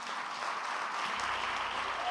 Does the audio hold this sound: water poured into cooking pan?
no